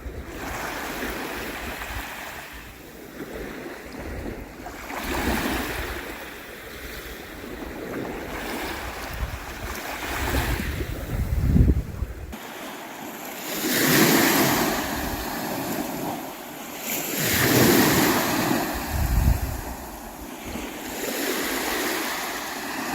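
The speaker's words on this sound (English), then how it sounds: "The magic and the power of these small waves here on the Baltic." Small Baltic Sea waves wash ashore at Visby in gentle, repeated surges, each swell rising and receding with a soft rushing hiss, while light wind buffets the microphone.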